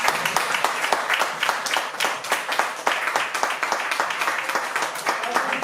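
Audience at a concert in Nice applauding the band, dense rapid hand clapping sustained at a steady level throughout, close and lively with no voices over it.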